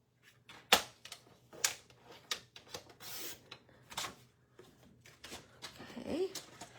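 Olive-colored card stock being cut for a card base, heard as a series of crisp short slicing and rubbing strokes in an irregular rhythm, close and fairly quiet, with faint room noise between.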